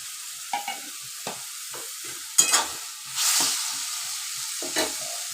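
Prawns with bitter gourd and potato being stirred in a pan, with scattered scraping clicks of a spatula over a soft, steady frying sizzle and a brief swell of hiss.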